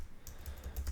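Light typing on a computer keyboard, a quick run of soft key taps in a quiet room with a faint low hum underneath.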